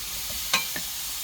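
Onions frying gently in a pan as they turn golden, a steady soft sizzle with a couple of brief clicks of utensil contact.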